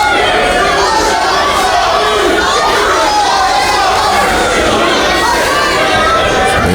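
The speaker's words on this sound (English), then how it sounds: "Sellout crowd here at the Camelot Ballroom all over the case of Moonshine Mantell with that Moonshine sucks chant." A sellout wrestling crowd in the Camelot Ballroom chants "Moonshine sucks" at Moonshine Mantell, a dense, loud roar of many voices shouting in unison that runs unbroken throughout.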